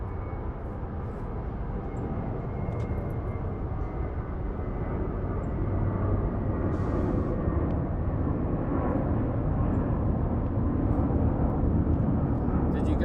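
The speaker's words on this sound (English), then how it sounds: "Here's our Volaris flight headed to Guadalajara on an A320." A Volaris Airbus A320 departing Los Angeles International for Guadalajara, a steady broadband jet roar that swells gradually and stays continuous, with no talk over it.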